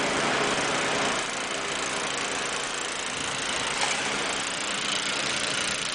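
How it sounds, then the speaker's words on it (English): A snowblower engine runs outdoors during a blizzard amid deep drifts, a loud, steady mechanical roar that lasts unbroken with no voices. "We're gonna try and get the snowblower out."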